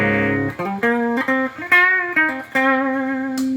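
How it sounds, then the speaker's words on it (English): Clean electric guitar with no effects pedals engaged, a handful of sustained single notes and short melodic phrases played dry and close, ringing clearly with no echo or talking. "let you hear the clean sound"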